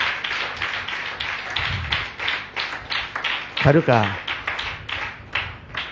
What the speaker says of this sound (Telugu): కొడతారా ఇప్పటికైనా చప్పట్లు గట్టిగా?